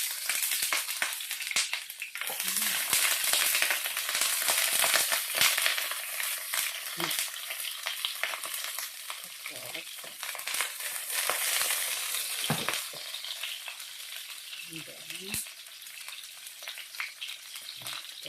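Food fries in hot cooking oil in a pan for a chicken noodle soup, a loud continuous crackling sizzle with occasional stirring scrapes, and a faint voice underneath.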